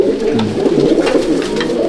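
Pigeons in a loft at Barrackpore coo in soft, rolling low calls, several birds overlapping close by in a steady murmur without speech.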